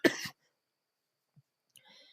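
A single short cough, close and fairly quiet, from a host recording at home, followed by near silence with a couple of tiny faint noises.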